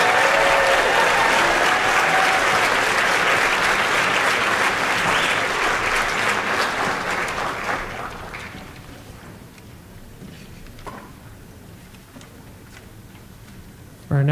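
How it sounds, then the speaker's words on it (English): Full audience applause after a number at a high school spring jazz band concert, loud and sustained at first, then tapering off over several seconds to a few scattered claps and quiet room noise. "Big round of applause, Mr."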